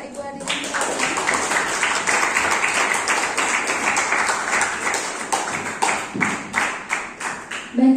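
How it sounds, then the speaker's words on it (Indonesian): An audience at a university guest lecture claps steadily for several seconds, a dense, sustained patter of many hands filling the room, with a voice briefly audible at the end. "mari kita beri tepuk tangan Bapak Ibu"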